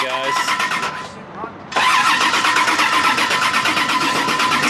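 A Mazda Miata engine cranks briefly after fuel priming, then catches and settles into a loud, steady close-up idle that runs to the end.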